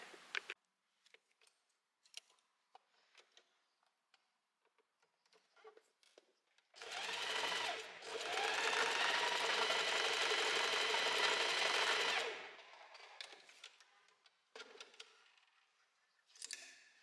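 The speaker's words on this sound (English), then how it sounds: "go to your sewing machine and then go over it a few times" A sewing machine stitches a summer dress seam in one sustained run of about five seconds. The motor whirs loudly and steadily, and quiet handling clicks sound before and after.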